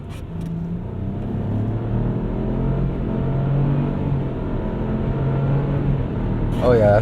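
A 2021 Chevy Trailblazer accelerates steadily through manually shifted gears, its engine giving a continuous low rumble heard from inside the cabin, with a brief rising whine near the end.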